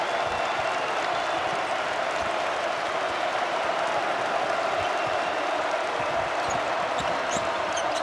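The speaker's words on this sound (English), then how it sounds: "Here come the home crowd." Home crowd roaring at a Wisconsin Badgers college basketball game against Indiana, a dense, loud, unbroken arena cheer held steady throughout with faint court noises mixed in.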